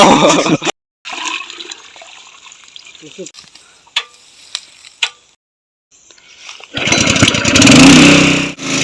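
A motorized pump machine starts up beside a pond to drain it out for fishing, breaking in with a loud, steady engine roar and gushing water after sparse clunks and quiet gaps.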